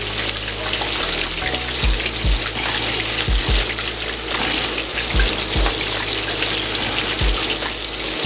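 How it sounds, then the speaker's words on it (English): A whole red snapper deep-fries in oil in a pan, giving a loud, constant crackling sizzle with several low knocks and bumps from the pan along the way, no voices. "while this is cooking down and deep frying here"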